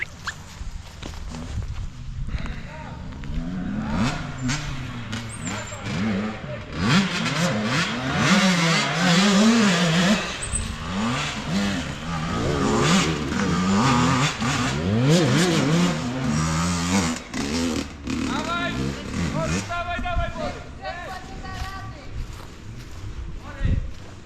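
Motorcycle engines rev and roar nearby, their pitch rising and falling repeatedly, while people talk over parts of it.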